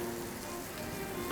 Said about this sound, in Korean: 이렇게 은박지 이렇게 해가지고 볶는 거.